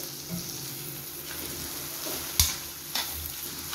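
Prawn masala with chili powder being stirred in a pan, soft continuous frying sizzle with a few scraping clatters of the spoon against the pan, quiet and close, no talking.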